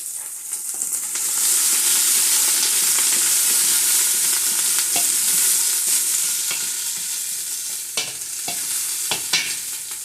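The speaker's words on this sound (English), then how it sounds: "start out by adding the onions." Onions hit a hot pot for a beef, pepper and tomato stir-fry, giving a loud, steady hiss that swells and holds, then thins, with scattered clicks and scrapes from stirring near the end.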